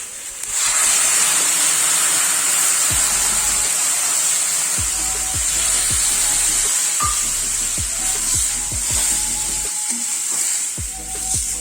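Ground spice paste for a fish curry sizzles loudly and steadily in a hot pan. Scraping stirs punctuate the continuous hiss at irregular intervals, up close with no talking.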